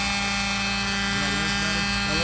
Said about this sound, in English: Gas powered helicopter and cell phone.